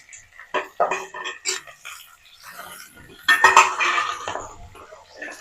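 Green chillies, ginger, garlic, onion and spices tipped into a pan for mutton gravy, giving a run of clinks and clatters of metal utensils against the pan, with a louder burst of scraping and rattling near the end; no talk.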